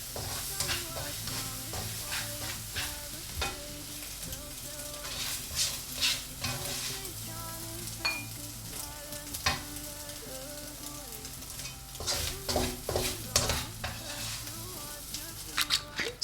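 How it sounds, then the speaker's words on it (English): Vegetables being stirred in a pan during a couscous dish preparation, soft sizzling under a steady series of spoon scrapes and taps against the pan, close and fairly quiet, with no talking. "So I have to keep stirring so that it doesn't get burnt."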